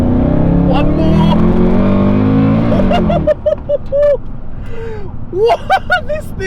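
An HSV ClubSport Tourer R8 wagon engine revs loudly with a steady droning growl for about three seconds, then drops away into quieter, choppier engine noise while voices react over it.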